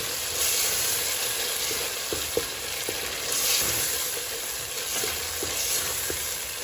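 Yogurt sautés in hot oil for a biryani base, producing a continuous close sizzle with several short scraping stirs and no talking.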